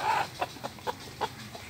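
A young chicken clucking while it is caught by hand, a series of short, sharp squawks at a steady, near, moderately loud pace, with no one talking.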